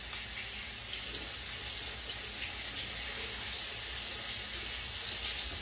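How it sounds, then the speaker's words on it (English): Tap water runs steadily into a kitchen sink as hands are washed, a loud, even rushing splash that holds for several seconds with no talking. "Let me wash my hands off."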